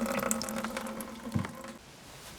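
Water drips and trickles steadily through a homemade filter after dirty water from a bucket is poured in, a soft continuous splashing that fades slightly toward the end.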